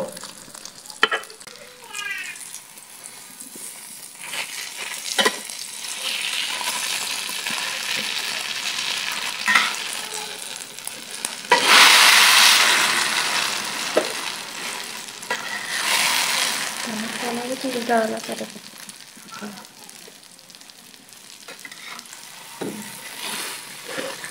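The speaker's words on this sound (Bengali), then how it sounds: "রোলটা ভাজা হয়ে গেছে।" A vegetable egg roll fries in a pan over low heat, giving a steady, close sizzle with intermittent stirring and scraping clatter, a louder burst of spitting midway, and no talk.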